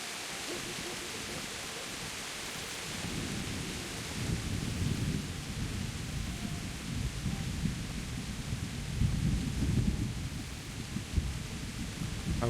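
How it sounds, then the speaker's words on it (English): Steady, loud rain hisses throughout the medieval world of Kingdom Come: Deliverance, with low rumbling thunder swelling in and rolling beneath it from about three seconds on. "This rain is loud."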